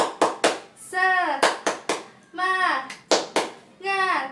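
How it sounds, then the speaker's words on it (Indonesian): Children doing a rhythmic spirit clap in an online elementary class, sharp hand claps in short repeating pairs alternating with children chanting in unison, recorded close and clear. "Tepuk semangat"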